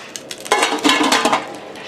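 Metallic clatter and clinks of cookware close by, a few sharp knocks followed by a busy scraping rattle as a lid settles onto a pot.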